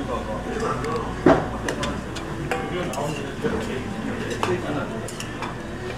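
Food with kimchi and squid is mixed in a metal pan or bowl, with scraping, clinking utensil strokes and a faint sizzle, while a person talks over the stirring.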